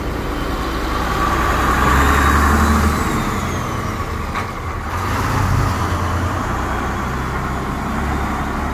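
A vintage Leyland Leopard bus drives around a corner at a bus museum, its engine a continuous close, fairly loud droning rumble with steady road noise throughout.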